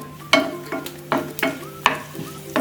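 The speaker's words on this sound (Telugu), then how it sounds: "ఆయిల్ హీట్ అయ్యాక అందులో 2 కట్ చేసి పెట్టుకున్న పచ్చిమిర్చిని వేసుకోవాలి." Cut green chilies fry in hot oil, a close, steady sizzle interrupted by five or six brisk scraping stirs.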